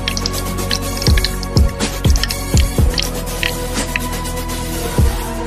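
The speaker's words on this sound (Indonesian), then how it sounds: "Kita coba lagi, tambah airnya lagi." Coloured water is poured into a tube used as an organ pipe, giving a run of distinct drips and splashes at roughly half-second intervals over a steady ringing hum, with no voices.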